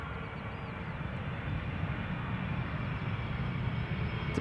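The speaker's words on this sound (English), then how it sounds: "Typical KLM landing." A KLM airliner lands at an airport; a steady, loud jet roar builds slightly as it rolls out, with no voices over it.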